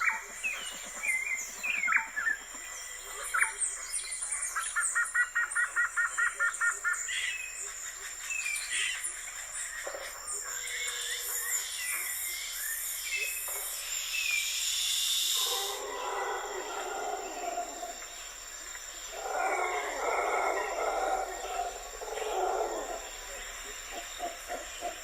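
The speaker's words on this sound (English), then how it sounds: "Listen to this recording of the ambient sounds of a tropical forest." Layered forest ambience of bird calls, including repeated hoots and chirps, with bursts of insect-like buzzing at a moderate distance.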